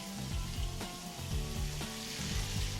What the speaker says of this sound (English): We brown the steaks off on both sides of them in the sauteed pan.